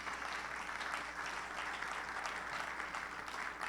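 Steady, dense applause from a church congregation, sustained and even throughout with no voices standing out.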